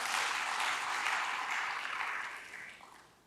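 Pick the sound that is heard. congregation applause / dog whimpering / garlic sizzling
congregation applause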